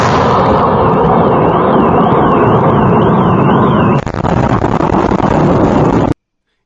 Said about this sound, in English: You're going to hear the explosion.